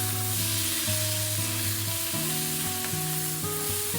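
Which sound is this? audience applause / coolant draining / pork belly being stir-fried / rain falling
pork belly being stir-fried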